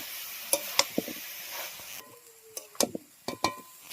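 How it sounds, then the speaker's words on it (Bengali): Banana flower and potato cooking in spiced oil without water, a soft sizzle under sharp clinks and scrapes of a spatula stirring in the pan, with the hiss dropping away halfway through. "এবার মোচা আলুটাকে দিয়ে দেবো। এর মধ্যে কিন্তু কোনো জল দেবো না, এইভাবেই কষানো হবে।"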